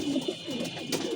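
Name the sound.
pigeon cooing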